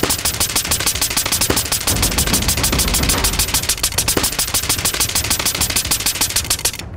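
An Air Arms SK-19 air rifle fires on full auto in a long, rapid, evenly spaced burst of loud sharp cracks lasting about seven seconds, with no talking.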